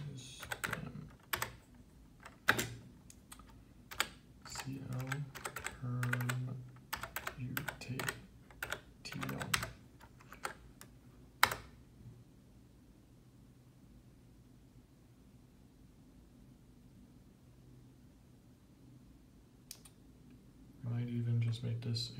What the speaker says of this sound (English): ASDF, if I can type it with one hand